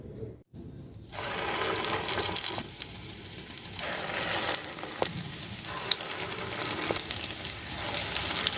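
Chitti garelu, small lentil fritters, frying in hot oil, a steady crackling sizzle that starts after a brief pause and continues close by with small pops throughout.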